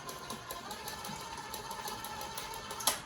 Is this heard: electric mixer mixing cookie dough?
yes